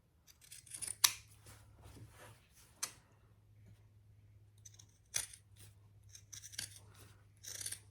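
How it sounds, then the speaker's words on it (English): Pinking shears trim thick fabric for a clutch, giving a few sharp, crisp snips spread across several seconds, with soft rustling and handling of the material between cuts in a quiet room; no speech. "All right, I grabbed my pinking shears."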